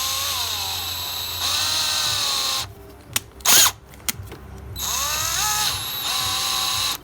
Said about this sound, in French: J'y vais tranquillou à la perceuse.